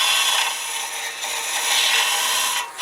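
Scraping, rasping swish of a Crown Revolution Super Ring hollowing tool peeling wood fibres in a gentle push-pull cut, near and continuous with slight swells, no talk.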